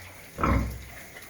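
A single short, low grunt from a large white purebred sow with her piglets, close by, against quiet background noise.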